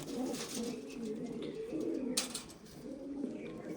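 Steady, close cooing from a hobbyist's pigeons fills the whole moment, a soft rolling murmur from several birds with a brief sharper click near the middle.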